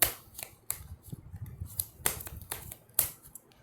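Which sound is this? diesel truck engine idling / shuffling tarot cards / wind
shuffling tarot cards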